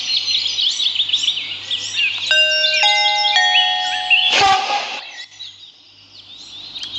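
A door chime on a KYA train in a Malaysian train video game plays a short sequence of steady electronic tones, followed by a brief burst of mechanical noise as the doors move, over constant birdsong ambience.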